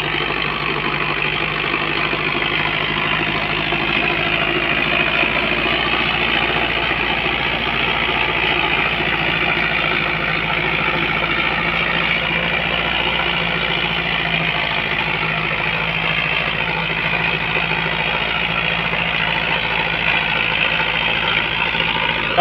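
A Sonalika DI 55 tractor engine idles and runs steadily at close range, a continuous low rumbling drone with no pauses.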